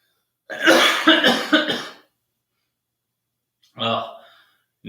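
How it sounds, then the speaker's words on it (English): A loud burst of several harsh coughs close by, then a pause and one more short cough or throat-clearing. "I'm talking too much if I start coughing"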